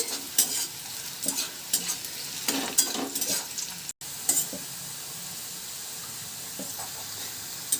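Onions sizzle steadily in a hot pan, frying until brown, with intermittent scraping and stirring bursts over the constant frying hiss.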